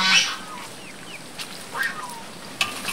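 Birds in an overgrown chicken coop on a small farm, giving a few short, faint squawks and honking calls spaced out over a quiet, hissy background.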